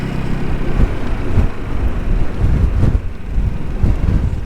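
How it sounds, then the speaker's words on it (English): Strong wind buffets the microphone with a constant low rumble and gusting roar, loud and continuous throughout. "It's a bit windy up here, isn't it?"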